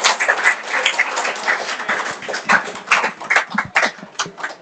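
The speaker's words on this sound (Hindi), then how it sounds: "जोरदार तालियों से स्वागत करो अक्षिता का" An audience at a student achievers' prize ceremony claps for a student, with loud, uneven, continuous applause from a nearby crowd.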